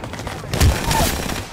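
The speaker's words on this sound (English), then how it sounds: "thermite grenade. Frag out." A thermite grenade goes off in the Apex Legends video game: a short burst of crackling, thumping blasts peaking about halfway through over a rumbling game background.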